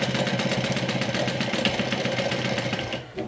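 Sewing machine stitching vinyl for a cosmetic bag, a fast rhythmic mechanical whir with regular pulsing clatter, close and steady before stopping abruptly near the end.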